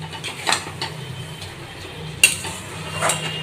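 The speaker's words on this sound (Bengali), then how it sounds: "মাঝে মধ্যে একটু নেড়ে দিতে হয়" Taro leaves (tela kochu shak) are stirred in a pan with a metal spatula, soft scrapes and a few light clinks at an uneven pace, close and quiet, with no talk.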